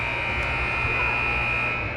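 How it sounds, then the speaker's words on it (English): The final buzzer sounds at the end of a high school hockey game in an arena, a loud, steady electronic drone held unbroken for the whole stretch. "Just a second to go, and there's the buzzer"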